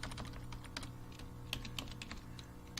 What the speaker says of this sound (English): I actually have to look at the keys